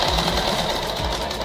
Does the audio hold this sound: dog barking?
no